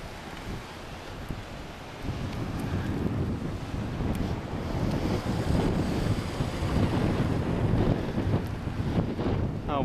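Ocean surf at the Restless Sea along 17-Mile Drive on the California coast, a steady broadband wash of waves with heavy wind buffeting the microphone, growing louder after the first couple of seconds and continuing throughout.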